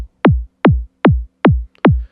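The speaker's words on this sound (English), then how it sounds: "I use kick 2 as my punch" Five punchy hard techno kick drum hits, the punch layer, in a steady rhythm, each a sharp pitched-down thump with a tight low-end tail, dry and isolated.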